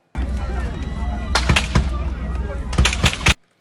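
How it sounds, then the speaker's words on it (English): Several sharp gunshots crack out at a funeral burial site in Jamaica, a couple in quick succession midway and a cluster near the end, over a noisy crowd of mourners. "seek shelter from the gunshots firing in their midst"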